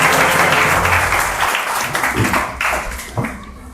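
Studio audience applauding a correct answer by a young contestant on a Hindi kids' general-knowledge quiz show, a loud, dense burst of clapping that tapers slightly toward the end.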